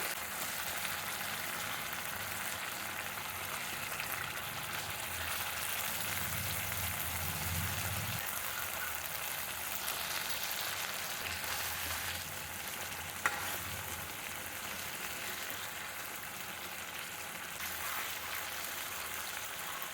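Fish frying in hot oil in a pan for a fish curry with coriander leaves, a continuous close sizzle with occasional scraping from stirring, steady and fairly loud throughout.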